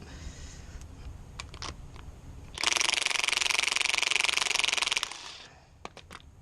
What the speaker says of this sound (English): you're going to need an air tool or an electric tool in order to loosen this up